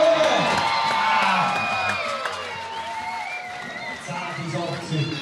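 Spectators at a Swiss timbersports competition, a STIHL European Nations Pro Cup, cheering and whooping loudly from close by, a dense crowd roar that eases a little, with voices shouting over it.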